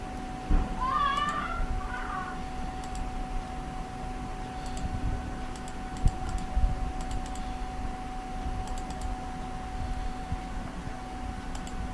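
Someone typing a number on a computer keyboard, a few light scattered key taps over a steady electrical hum, quiet and close, with a brief chirp near the start.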